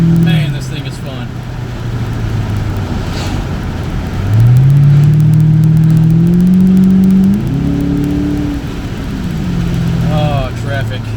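A 2007 Ford Mustang GT on a fairly dry road, its engine note climbing loudly under full throttle through rising revs and gear changes, heard close from inside the car.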